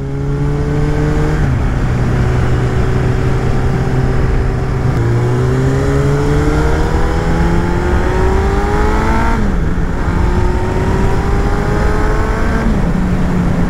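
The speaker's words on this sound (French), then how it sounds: "il chante le nouveau pot, le MIV là, j'aime beaucoup" A car fitted with a new MIV aftermarket exhaust drives on an open mountain road in the Vercors, its engine note rising loud and close through repeated gear changes, with no talking.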